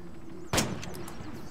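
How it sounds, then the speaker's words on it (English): One loud gunshot booms in the ARMA 3 video game, a sharp crack with a rumbling tail over a steady background hum. "Are you shooting over my head?"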